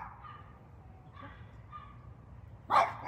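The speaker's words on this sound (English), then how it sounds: "I hear dogs barking and I hear yelling." A dog barks outdoors, several faint distant barks at an uneven pace, followed by one louder, sharper bark near the end.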